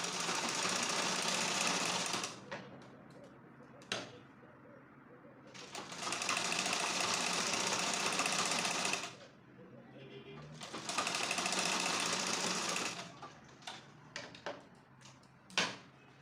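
Sewing machine stitching the back pieces of a pencil skirt, running in three long bursts of rapid needle clatter separated by quieter pauses with small handling clicks, close and fairly loud.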